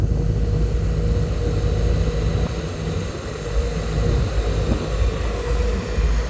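A Sumitomo excavator digging at a pond-edge worksite keeps up a steady, loud diesel engine drone with a broad rumble, dipping slightly midway and then rising again, with no voices.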